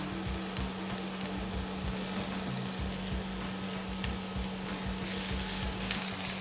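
Chilies sizzle and fry in a pan of softened onion for vegan fish cutlets, a steady close hiss broken by rhythmic scraping of a spoon stirring, with no talk.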